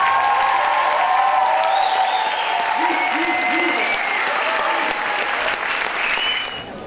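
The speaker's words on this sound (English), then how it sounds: "I'd like to give another round of applause to the class of 2014." Steady applause from a large crowd at a graduation ceremony fills the whole stretch, with a few voices and cheers rising over it before it fades slightly.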